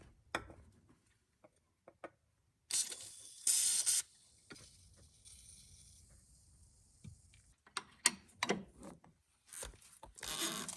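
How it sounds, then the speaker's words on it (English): Short hissing bursts of WD-40 spray go into a C6 Corvette's front end. Quiet ticks and handling noises fill the gaps, and the sprays come several times across a mostly quiet stretch. "just gonna squirt a little WD down in there"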